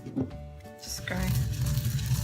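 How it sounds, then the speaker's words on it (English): An electric spice grinder starts partway through with a steady grinding whir and keeps going loud and close after a few brief clatters. "to grind them like this and wait until you get into the powder consistency"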